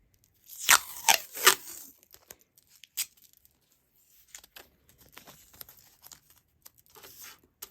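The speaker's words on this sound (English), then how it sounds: "we're just going to tape down our wax paper" Tape torn in a few quick sharp rips while taping down wax paper for paper bead making, followed by softer crinkling and small handling noises, close and alone with no talk.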